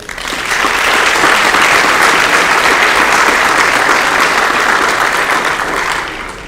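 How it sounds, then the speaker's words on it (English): A high school auditorium audience at an athletic awards event bursts into loud, dense applause, swelling quickly, holding steady for several seconds, then tapering off at the end. "They deserve a round of applause."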